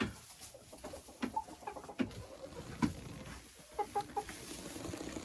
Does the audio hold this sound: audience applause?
no